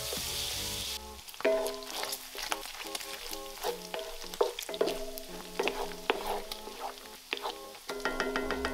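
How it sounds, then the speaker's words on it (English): Bacon fries in a cast iron pan with a steady crackling sizzle, stirred now and then, heard beneath louder background music. "Just listen to that sizzle. There's nothing like cooking bacon in your cast iron."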